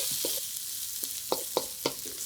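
Onions sizzle in hot oil in a small studio loft kitchen, a soft steady frying hiss broken by a handful of light clicks and scrapes of stirring, fairly quiet and close, no voices.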